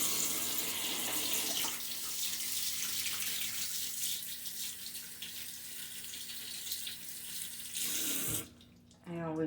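Steady, loud rush of water from a running tap splashing into a sink as hands are washed, continuous and close for several seconds before the flow stops and a few small clatters follow.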